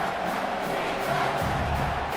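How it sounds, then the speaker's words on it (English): A home stadium crowd in the College Football 25 video game, Old Dominion at South Carolina, roars in a steady, dense wall of cheering on third down, loud and continuous throughout. "Here comes this home crowd as the defense tries to get off the field on 3rd down."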